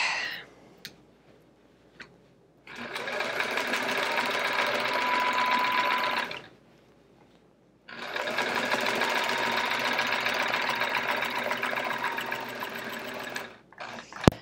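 Domestic sewing machine stitching in the ditch along seams of a chevron-pattern quilt, running in two steady bursts of rapid, even stitching separated by a short pause, close and clear with no talking.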